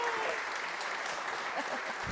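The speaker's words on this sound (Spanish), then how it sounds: "Gracias nuevamente a Josefina, a Amalia, un aplauso para ellas por su trabajo" A steady wash of applause from a crowd, dense clapping that holds at an even level throughout.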